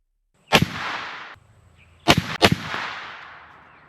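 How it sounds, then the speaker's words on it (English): A lever-action rifle chambered in 44 Remington Magnum fires Hornady LEVERevolution 225 grain FTX rounds: three sharp, loud outdoor shots, one alone and then two in quick succession, each followed by a rolling echo. "Again, going to be shooting these Hornady LEVERevolutions 225 grain FTX ammunition"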